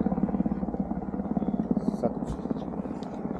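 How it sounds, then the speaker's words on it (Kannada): Rescue helicopter flying overhead during a hike on Säntis in the Swiss mountains, a steady rhythmic rotor thump heard from a distance while people talk nearby. "ಮೇಲೆ ಆಗ್ತಿರೋ ಹೆಲಿಕಾಪ್ಟರ್ ರೆಸ್ಕ್ಯೂ ಹೆಲಿಕಾಪ್ಟರ್"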